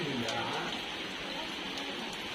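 Rain pours steadily outdoors during a neighbourhood function in Nepal, a dense continuous hiss of drops on surfaces, fairly close, with people talking faintly underneath.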